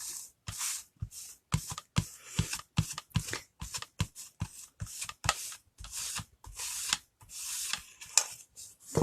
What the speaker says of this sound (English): I'm just getting some finishing wax on here, and I put it on really, really thick